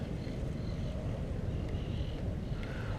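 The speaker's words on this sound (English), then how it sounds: "That's where the majority of the wind is." Wind blows across a beach where a four-line kite is being flown, a dense, constant low rumble buffeting the microphone with no breaks or talking.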